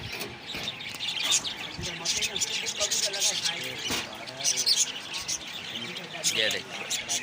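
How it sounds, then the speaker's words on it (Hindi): Pigeons, a pair of male and female among four landing together, give off scattered bird calls and fluttering over steady talk and background commotion at a pigeon-flying contest. "ये माशाल्लाह से कबूतर हैं, चारों कबूतर उतर गए।"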